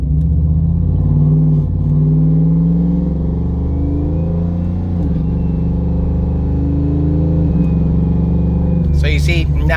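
A car in sport mode accelerates hard through its gears, a loud near engine rising in pitch with a sharp change around the middle. Someone talks over the engine.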